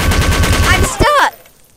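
Rapid gunfire in the video game Garry's Mod, a loud, dense burst of repeated shots that breaks off into a brief warbling electronic effect and quick fade, with no talk.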